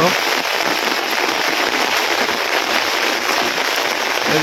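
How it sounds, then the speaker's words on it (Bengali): Heavy rain pours steadily over a flooded rice field where seedlings are being transplanted, a dense, constant hiss close and loud throughout with no pauses. "বৃষ্টি রে বৃষ্টি, বৃষ্টির অভাব নাই।"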